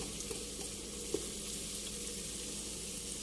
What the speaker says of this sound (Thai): ทีนี้เราจะมาเจียวกระเทียมนะคะ ให้หอมเลยค่ะ เจียวด้วยน้ำมันหมูนะคะ